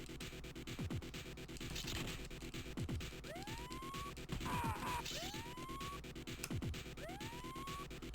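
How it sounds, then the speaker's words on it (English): A looping electronic siren in the Game Boy Advance game X-Men: Reign of Apocalypse, rising wails repeating every couple of seconds amid busy chiptune music and noisy game effects. "Where's the siren coming from?"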